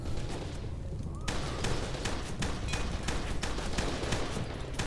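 Dense, loud video game gunfire from F.E.A.R. 2 rattles in rapid bursts, with a steady roar of shots and blasts filling the whole stretch.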